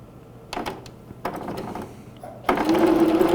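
A home sewing machine stitching a simple cloth baby bib starts with a few short clicks and brief bursts, then settles into a louder steady run of rapid stitching close by.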